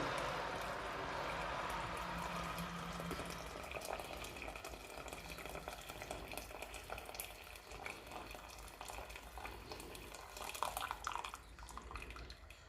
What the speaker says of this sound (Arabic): غادي نضيف يطرو ديال الماء،